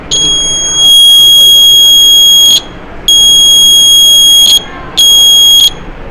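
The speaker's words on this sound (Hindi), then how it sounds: "बारिश की बूंदें इस पर पड़ेंगे तो अलार्म बजने लगेगा" A rain-detector model built for a school STEM challenge sounds its alarm buzzer in three loud, shrill electronic bursts, each lasting about a second or two, separated by short gaps.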